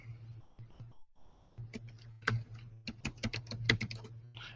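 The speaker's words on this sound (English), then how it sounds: "I'm going to just type in Translate up here." Quick clicks from a computer keyboard as someone types a short word, the keystrokes crisp and close over a low steady hum, with a brief gap before the typing starts.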